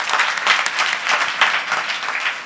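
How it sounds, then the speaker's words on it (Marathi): Loud, steady applause from an audience at a Warkari kirtan in Bhalegaon Bazar, dense clapping that swells and pulses throughout without a break. "जोरदार टाळ्या वाजवा."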